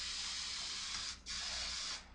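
Hairspray hissing from an aerosol can onto teased 1980s-style hair, two close, loud bursts split by a short pause, with no talk.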